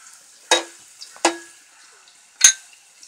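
Onion, green chili and ginger with salt sautéing in a pan for egg pollichathu, heard as three separate sizzling bursts as ingredients are stirred, each flaring loudly and then fading, with quiet pan hiss between.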